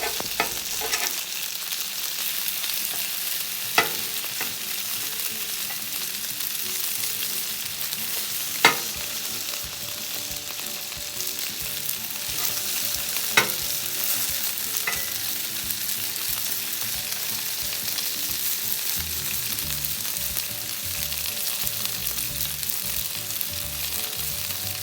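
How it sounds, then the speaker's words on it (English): Strips of steak for Mongolian beef fry in a hot pan with a steady, close sizzle throughout, broken by a few sharp clacks as the meat is flipped and turned. "Continue to flip and turn until the steak has been cooked"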